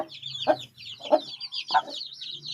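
Three spaced, low clucks from an Aseel chicken, close by, with faint chirping of small birds or chicks behind them.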